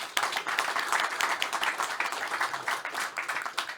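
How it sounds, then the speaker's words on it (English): Audience applause for the panelists at a regional innovation forum, a dense steady round of clapping from a crowd filling the room, holding at an even level throughout. "I would like to ask for a big round of applause for the panelists today."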